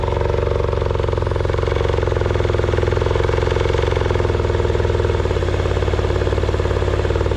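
Yamaha 30 hp outboard engine, freshly repaired exhaust, running steadily and loudly up close with a continuous rough, throbbing drone and no break across the clip.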